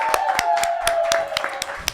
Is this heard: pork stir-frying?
no